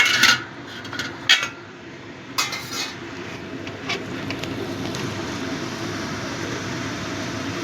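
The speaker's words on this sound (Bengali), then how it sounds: "এবার ঢাকা দিয়ে দেব।" A metal lid clanks onto a cooking pot of spicy tangra fish curry, a few short clinks near the start, followed by a steady low sizzle and hiss of the stove.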